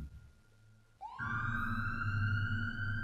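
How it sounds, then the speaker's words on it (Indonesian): An ambulance siren starts abruptly about a second in. It rises into a loud, sustained wail that stays close and steady, with no voices over it. "terdengar suara mobil ambulan."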